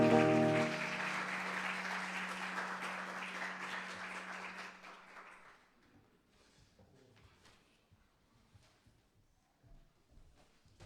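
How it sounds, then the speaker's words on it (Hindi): A congregation at a live worship service claps loudly, a dense roar of applause over a low sustained tone that holds for about five seconds, then drops to scattered faint claps and small sounds. "जोर से ताली बजाएं खुदा के लिए।"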